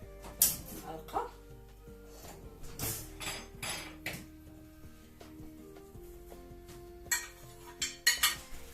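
A metal spoon clinks and scrapes against dishes in a home kitchen, a string of sharp, irregular taps and rattles close by over a low background hum.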